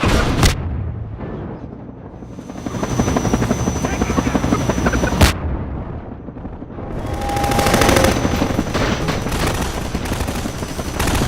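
A helicopter in the Half-Life 2: Episode Two video game thunders loudly throughout, with bursts of rapid machine-gun fire and a couple of sharp, heavy impacts over the rotor drone.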